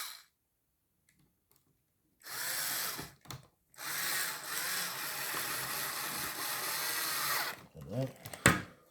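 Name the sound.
power screwdriver screwing bolts back into T300RS wheel base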